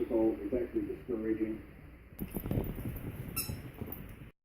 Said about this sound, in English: Somebody loves her squeaky toy now.